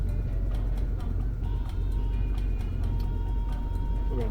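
Car with a 454 engine, fitted with new plugs and wires, on a test drive, a loud steady engine and road rumble holding evenly throughout, with faint ticking above it.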